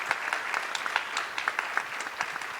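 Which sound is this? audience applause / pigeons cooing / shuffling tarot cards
audience applause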